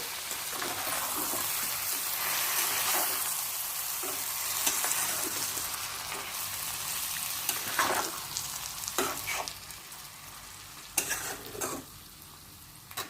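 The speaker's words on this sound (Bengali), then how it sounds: "এটা দিয়ে একটু কষাবো, কারণ এর কাঁচা কাঁচা গন্ধটা চলে যাক" Spices sizzle and fry in a pan for green jackfruit curry, a steady crackling hiss broken by several scraping stirs of the spoon toward the end.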